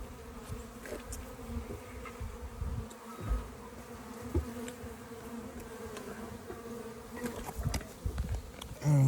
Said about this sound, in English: there are a lot of bees coming in